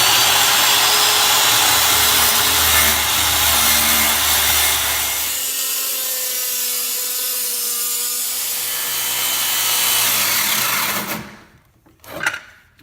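A manual dovetail saw cuts along a line in wood, making a continuous loud, close rasping that runs for about eleven seconds before stopping, followed by a brief clatter.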